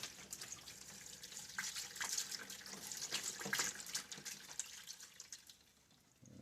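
Water runs and splashes over .50 Beowulf brass rifle cases being rinsed after wet tumbling, a steady close faucet-like stream with small sloshes and clinks that tapers off near the end.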